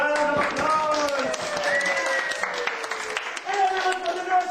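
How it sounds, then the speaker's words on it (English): Children at a birthday party clap in a quick patter of applause, mixed with high excited voices and chatter throughout. "give them a big round of applause"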